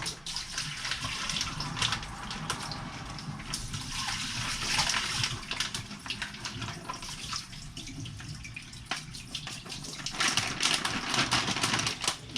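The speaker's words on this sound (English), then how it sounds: "I'm gonna drain my shrimp." Water runs and splashes steadily into a sink as rinsed shrimp are drained, a continuous close-up gush with small clattering sounds as it drains away.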